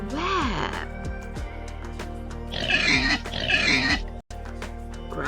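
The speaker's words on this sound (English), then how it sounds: "Grunted the pig." A cartoon pig grunts several times in an animated farm storybook, with narration and music running beneath the short, low snorting bursts.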